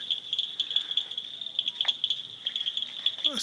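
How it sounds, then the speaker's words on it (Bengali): A steady, high-pitched cricket trill at night in the hills of Kalimpong, North Bengal, runs continuously with small pulsing variations and no voices. "শুধু ঝিঝি পোকার শব্দ শোনা যাচ্ছে, আর কিছু নেই"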